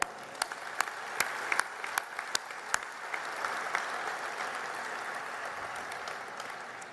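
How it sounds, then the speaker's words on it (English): An audience at a celebration event at GE Appliance Park gives a round of applause, a continuous bed of clapping with several sharp, closer claps standing out early before it settles into an even patter. "all of you deserve a round of applause as well"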